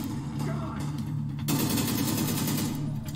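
Rapid automatic gunfire from the video game The Division 2 rattles steadily through the whole clip, dense and loud, with game sound layered underneath.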